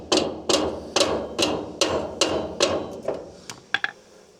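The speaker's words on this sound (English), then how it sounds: "copper mallet just to push the adjuster forward" A copper mallet strikes a trailer brake adjuster while wheel bearings are being replaced on an Ifor Williams trailer, giving about nine sharp, evenly spaced metallic knocks close up, with the last few quicker and lighter.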